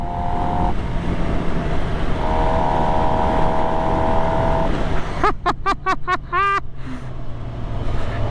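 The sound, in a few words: 2025 Suzuki GSX-R750 motorcycle stock exhaust roar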